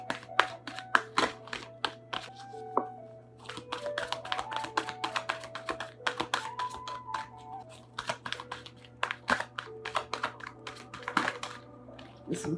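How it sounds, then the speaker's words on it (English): Tarot cards being shuffled with many quick, crisp riffling taps in a steady busy rhythm, close and fairly quiet, over a constant low electrical hum and soft background tones. "I don't know why I'm having a hard time shuffling."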